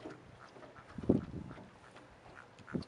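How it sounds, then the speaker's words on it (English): Birds squabbling near a fishing boat on open water: a few faint, harsh, duck-like squawks. One louder outburst comes about a second in, and a short call near the end. "Except for these birds over here,"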